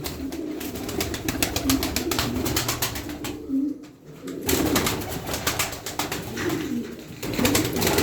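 Tumbler pigeons coo in repeated low, rolling calls close by, with fluttering and shuffling sounds and a brief lull in the middle.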